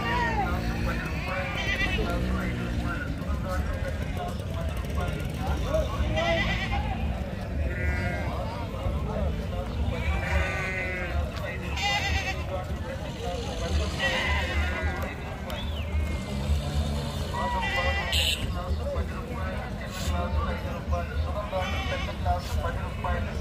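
A flock of sheep bleats loudly and constantly at a busy weekly livestock market in Gudur, many overlapping calls near and far, with people talking throughout the crowd.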